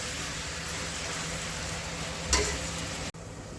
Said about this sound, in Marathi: चांगला लाल होईपर्यंत हा कांदा भाजायचा